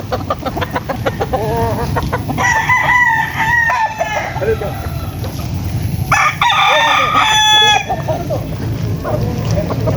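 Gamefowl roosters of Bacolod Eagle and Sandy lines crow loudly nearby, two long calls rising over clucking and steady background noise in light rain.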